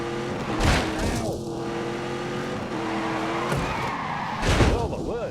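A car at full throttle in The Grand Tour video game, its steady engine drone running throughout with tyre-skid bursts near the start and end, under a speaking voice.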